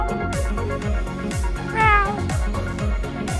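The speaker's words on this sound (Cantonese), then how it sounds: "有隻貓咧喺人哋架車度咧就坐咗喺度喎" An orange cat sitting on a parked car in Okinawa lets out a single clear meow near the middle, heard over a repetitive rhythmic background.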